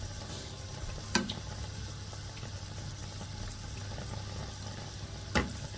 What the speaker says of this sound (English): our puff puff is still cooking, still frying.